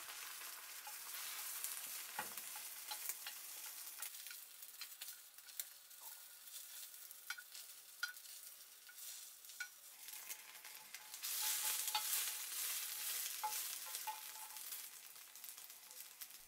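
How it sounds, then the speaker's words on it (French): Beaten egg for a rolled omelette sizzles steadily in a hot oiled pan, a broad, continuous hiss with small crackles and spatters, swelling louder near the end, with no talking. "Vous devez entendre ce bruit qui indique que la poêle est à la bonne température"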